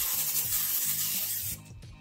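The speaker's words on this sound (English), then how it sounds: "I'm going to take some vegetable oil, okay, and use that to spray it" Vegetable oil sprayed from a can onto aluminum foil in a pan, a steady close hiss running for about a second and a half before cutting off, with faint handling noises after.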